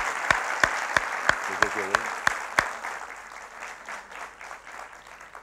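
Studio audience applause on a 1994 Turkish TV talk show, a string of sharp claps on the near mic while someone speaks, then a softer ongoing clapping that fades.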